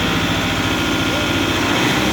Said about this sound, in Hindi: बिल्कुल भी ट्रैक्टर में वाइब्रेशन नहीं है कुबोटा 5502 में